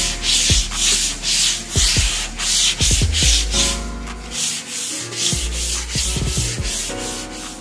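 Sandpaper rubs back and forth over a putty-filled wooden beam in quick, rhythmic strokes. The close, loud abrasive scratching repeats steadily throughout.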